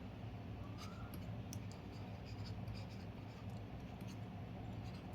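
Pen or chalk scratching out letters while writing an angle name for a class 6 maths lines-and-angles lesson, faint intermittent strokes over a low steady room hum.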